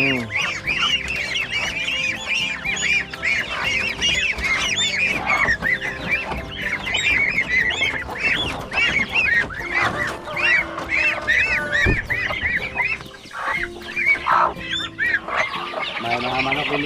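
A flock of farmyard geese honks loudly and continuously, overlapping calls close by, with chickens around.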